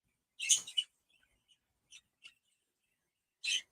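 Pet birds chirp indoors in short, bright bursts separated by silence: one cluster of tweets, a few faint single chirps, then another burst near the end.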